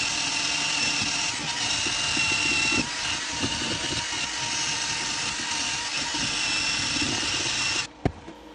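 A Weldinger M130 Mini 130-amp inverter welder runs flux-core wire on a 5 mm steel piece, giving a steady, loud crackling hiss with small pops that stops abruptly near the end.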